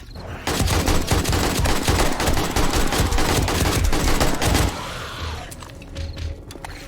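Rapid, sustained gunfire from 7 Days to Die during a blood moon night, loud and continuous for about four seconds before cutting off abruptly, leaving quieter ambient game noise.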